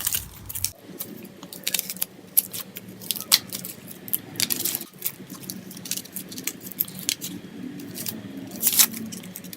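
An onion being sliced in a home kitchen, giving a run of small crisp cutting clicks and taps at an irregular pace, fairly close and clear with no talking.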